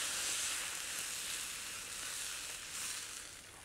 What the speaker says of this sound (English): And then into that, we tip some red Anjou